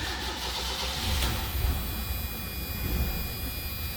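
A 1984 Ford Mustang LX convertible engine cranking over and catching on a cold start, then settling into a steady low rumbling idle, close and fairly loud with no talking.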